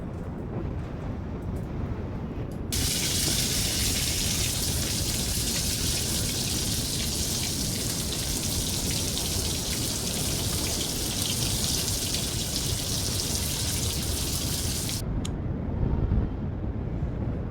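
Marinated, washed fish frying in hot oil gives a dense, steady sizzle like heavy rain that starts abruptly, holds for about twelve seconds, then cuts off.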